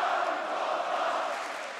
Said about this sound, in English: Crowd screaming